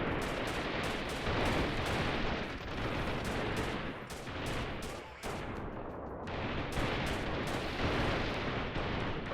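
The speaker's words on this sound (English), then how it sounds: "I'm being shot at." Continuous heavy gunfire aimed at the player in the guerrilla warfare game Freeman, rapid overlapping shots and bursts forming a dense, loud barrage that barely lets up.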